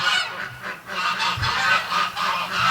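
A flock of geese on a farm pond honks loudly and close by, with repeated overlapping calls rising and falling in waves throughout.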